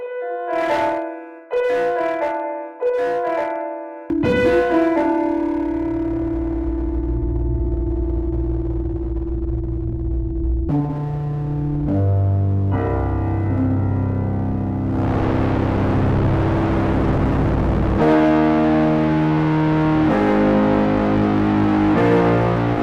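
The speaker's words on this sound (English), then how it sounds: "Choose myself a different distortion type." A few short EastWest virtual piano notes, then long sustained chords with a heavily distorted, buzzing, effected tone, loud and layered.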